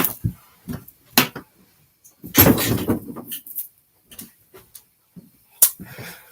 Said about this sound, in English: Let me just close my door.